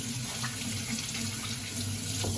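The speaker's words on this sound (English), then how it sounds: "So, let me rinse my hands off." Water runs steadily from a kitchen tap as hands are rinsed beneath it, a close, continuous splashing hiss with slight shifts as the hands move through the stream.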